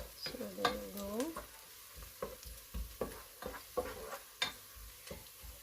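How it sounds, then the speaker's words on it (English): Chopped garlic and onion sizzle in hot oil while being stir-fried for a beansprout and oyster sauce dish, with a soft constant hiss broken by intermittent scraping and clinking stirring strokes close by. "time for me to add the chopped garlic"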